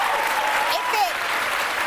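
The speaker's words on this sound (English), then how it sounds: "I know everyone's cheering in here again." A studio crowd applauds and cheers in a dense, steady wash of clapping, with a voice rising briefly above the noise.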